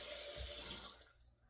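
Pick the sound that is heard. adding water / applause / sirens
adding water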